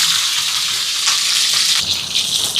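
Dried red chillies, onion and green chillies frying in oil for a Sri Lankan lunch, a continuous bright crackling sizzle that swells and shifts as the pan is worked.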